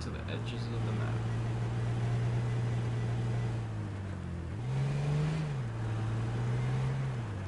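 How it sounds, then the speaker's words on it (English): A police car drives in the H1Z1 battle royale game, its engine a steady low drone that dips and rises in pitch as it moves, continuous and fairly prominent throughout. "Car over there. Cop car, it looked like."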